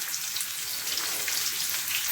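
Onions frying in oil in a frying pan for chicken sausage masala, a steady close hissing sizzle with crackling pops and no pauses or voices.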